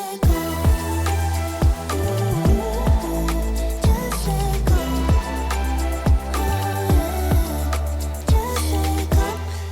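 Chorus of an electronic track: a loud, dense mix with a steady pounding kick, deep sustained bass, bright synths and a driving rhythm throughout.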